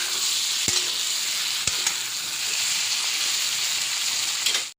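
Prawn curry masala with red chili powder sautéing in a pan, a continuous dense sizzle with a couple of sharp spoon taps against the pan, ending abruptly.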